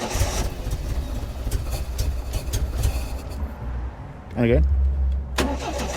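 A Triumph TR7 engine cranks with a rough, churning rhythm before catching and settling into a loud, close idle, with a voice heard briefly over it.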